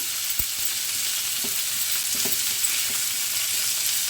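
Green beans with garlic, spices and salt frying in a pan, a continuous close sizzle broken by a few soft spatula knocks and stirring scrapes, no voices.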